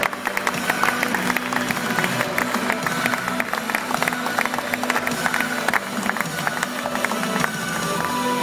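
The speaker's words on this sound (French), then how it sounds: "Vous pouvez l'applaudir très très fort pour la chambre syndicale des carburniers." Audience applause at an award ceremony for a trade trophy, a steady dense patter of many hands clapping that fills the room, with no voices over it.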